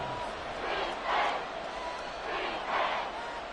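Stadium crowd at an NFL football game between the Titans and Saints, a distant roar rising in two pairs of swells, with no talk over it.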